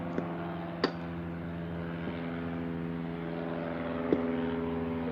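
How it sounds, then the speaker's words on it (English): A propeller airplane drones steadily overhead throughout, a continuous low engine hum, with a few faint clicks and knocks nearby from outboard motor work on a 1971 Evinrude. "another noisy airplane flying above"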